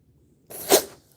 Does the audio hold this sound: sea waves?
no